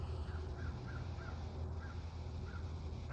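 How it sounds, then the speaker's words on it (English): A crow calls several times in a row, short hoarse caws spaced roughly evenly, moderately distant and fairly faint over steady low background rumble outdoors. "I don't know if you heard it. It was a crow."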